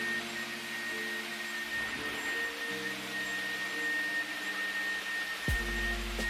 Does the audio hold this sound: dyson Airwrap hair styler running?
yes